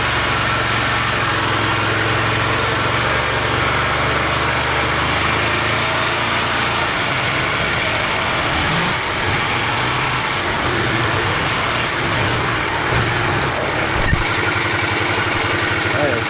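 An Arctic Cat Prowler XTZ utility vehicle runs with a steady, loud, buzzing engine drone that lasts the whole time after a wet clutch replacement, and someone talks over it.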